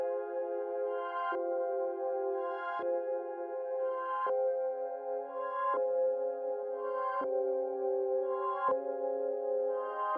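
A dark FL Studio loop with a half-time effect and EQ cutting the lows and highs plays sustained, muffled midrange chords that change every second and a half or so, with no drums and no talk.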